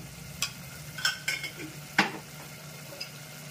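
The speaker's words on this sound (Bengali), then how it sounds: "এবার নাড়া দিয়ে নিচ্ছি সব উপকরণ।" Spices and ingredients for a spicy Bengali mutton curry are stirred in a hot pan, a low sizzle broken by several sharp scraping clanks of a utensil against the metal.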